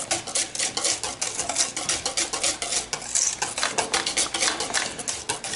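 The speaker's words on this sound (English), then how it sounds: "We're going to stir this in." A utensil stirs a thick sweet potato pie mixture in a bowl with rapid, rhythmic scraping and clinking strokes, steady and close, with no talking.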